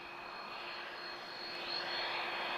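A TAP Airbus A330neo, the first production example, comes in to land at Lisbon Airport with a faint, distant, steady engine whine and hum that builds slightly toward the end.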